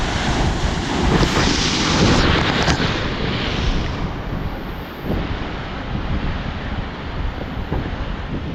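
Strong sea wind buffets the microphone on a Goa beach while waves wash and surge steadily in the background, with no talking.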